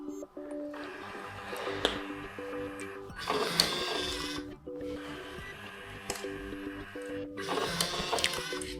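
DYMO mobile label printer running off several label copies, a quiet whirring and buzzing in repeated bursts of about a second and a half, separated by brief pauses.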